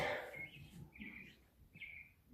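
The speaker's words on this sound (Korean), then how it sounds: "지금 새소리가 들려요." Birds sing from overhead, several short, bright chirping phrases at moderate distance, separated by brief pauses, in an otherwise quiet space.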